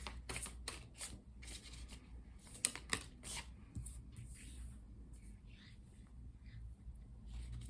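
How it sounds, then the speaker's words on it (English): Tarot cards are pulled from a deck and laid out, giving a quiet series of crisp flicks and papery slides, some in quick bursts and others spaced apart, close and soft. "Let's continue by pulling 7 tarot cards, one for each day of the upcoming week."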